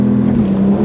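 Porsche GT Street R tuned to 800 hp holding revs on launch control on a closed road, a loud, steady, close engine drone with no talk.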